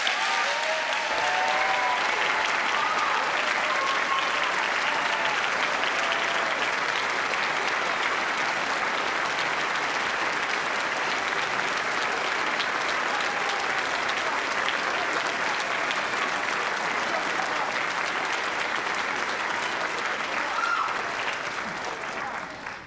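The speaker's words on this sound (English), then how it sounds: "please join me in a warm ovation for the Bachelor of Science class of 2013" Warm sustained applause from an audience at a college commencement ceremony honoring the Bachelor of Science graduating class, steady and loud for over twenty seconds with crowd noise and a few voices underneath.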